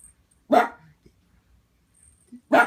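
Dog barking indoors, two sharp loud barks a couple of seconds apart against a quiet room.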